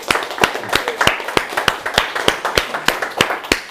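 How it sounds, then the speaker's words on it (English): An audience claps at an event, a steady run of sharp, close hand claps in a regular rhythm, fairly loud and without talk over it. "make sure that we give Andrea a huge round of applause for making this whole thing happen."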